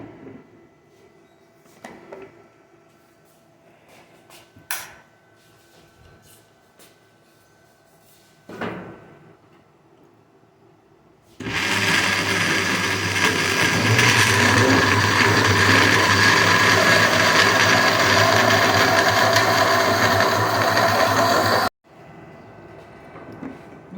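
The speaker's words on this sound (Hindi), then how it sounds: "वाटरमेलन को मैंने ब्लेंड कर लिया है, जूस तैयार है बिल्कुल।" A blender whirs loudly and steadily for about ten seconds while blending watermelon juice with seeds, preceded and followed by quieter kitchen clatter and a couple of knocks.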